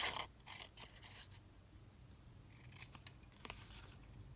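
Scissors trimming paper for altered jumbo paperclips, a few short crisp snips and slicing bursts with quiet pauses between them, close and fairly faint, with no talking.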